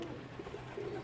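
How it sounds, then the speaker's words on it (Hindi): Pigeons, young birds out on flight, coo in soft low repeated notes close by over a steady outdoor background. "ये बच्चा कितना प्यारा फ्लाइट करके आ रहा है"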